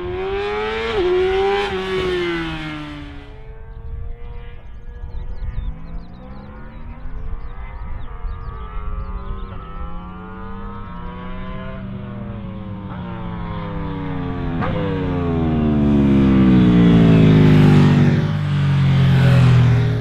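A 2017 Yamaha YZF R6 motorcycle is ridden hard, its engine revving high and dropping through repeated gear changes before climbing to a loud, sustained scream, close and alone.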